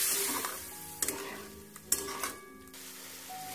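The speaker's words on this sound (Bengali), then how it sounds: "এবার গ্যাসটাকে লো ফ্লেমে রেখে অল্প একটু জল দিয়ে হালকা নাড়াচাড়া করতে থাকবো" Soya chunks and broccoli stirred in a pan over a low gas flame after a splash of water, with a steady soft sizzle and a few clinks and scrapes of the spoon, close and alone.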